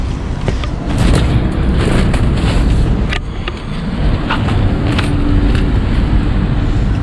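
A car passes close by on a hot street in Muscat, Oman, with a loud, rough roar that fills the clip and swells again partway through, with no talk over it.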